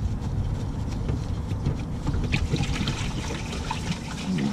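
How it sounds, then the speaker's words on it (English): Water draining from a body drain hole of a Ford Mustang with standing water inside the car, falling near the exhaust: a close, steady splashing trickle that runs without a break. "But the water is definitely draining now."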